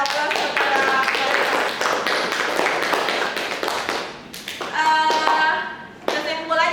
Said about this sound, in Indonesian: Oke, kita berikan aplaus kepada mereka.